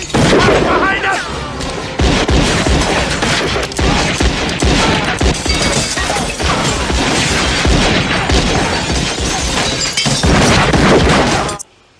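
A dramatized Old West firefight with a sheriff's posse: dense, loud gunfire sound effects with crashing and shattering bursts, continuous and chaotic for most of the span before dropping out abruptly, with voices mixed in.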